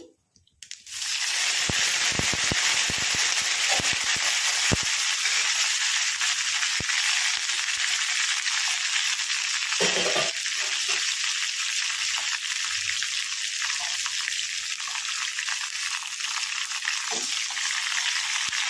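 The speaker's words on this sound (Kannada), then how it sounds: "ಇವಾಗ ಇದರಲ್ಲಿ ನಾನು ಬೆಳ್ಳುಳ್ಳಿ ಒಣ ಮೆಣಸಿನ್ಕಾಯಿ ಕರಿಬೇವು ತಗೊಂಡಿರೋದು ಇವು ಎರಡು ಮೂರು ಕೂಡ ಇದರಲ್ಲಿ ಆ್ಯಡ್ ಮಾಡ್ಕೊಂಡ್ಬಿಡ್ತೀನಿ" Garlic, dry red chillies and curry leaves drop into hot oil for a palak dal sambar, setting off a sudden loud, steady sizzle that keeps hissing close by with light stirring knocks.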